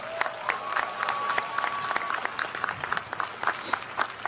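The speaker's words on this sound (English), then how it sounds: "Can we give her a round of applause?" Commencement audience applauding a graduate at a spring 2021 ceremony: dense, steady crowd clapping that fills the whole stretch at moderate loudness, with scattered louder claps and a faint voice or whistle-like tone early on.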